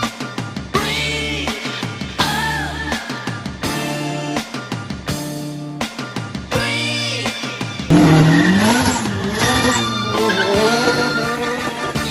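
A 450hp Nissan 200SX with a fully built SR20 engine drifts at a competition, its engine revving hard in repeated surges while tires squeal loudly and continuously, the screech swelling near the end.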